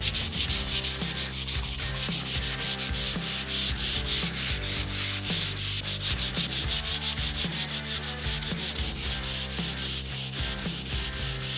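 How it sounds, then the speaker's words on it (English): A block of live-edge wood is hand-sanded with 120-grit sandpaper, giving a steady, close, rhythmic scratching of quick back-and-forth strokes that continues without pause. "we're gonna hand sand our 120."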